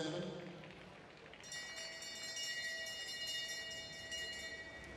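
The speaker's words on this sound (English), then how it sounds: "Another bell." At a track cycling race during the UCI Track Cycling Nations Cup in Adelaide, a bell rings with sustained metallic tones over arena noise and faint commentary.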